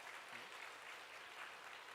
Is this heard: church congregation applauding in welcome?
yes